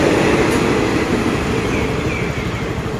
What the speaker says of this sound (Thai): รถด่วนพิเศษขบวน38กับขบวน46นะครับ